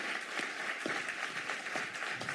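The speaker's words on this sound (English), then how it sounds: "a round of applause for them as well" A forum audience on affordable housing applauds, a faint, steady patter of many hands heard at a distance, with little voice underneath.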